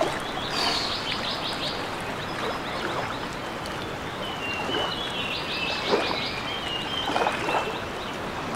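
Birds chirp in an Unreal Engine 5 game, bright scattered calls and trills over a constant rushing water-like background, moderately loud and without speech.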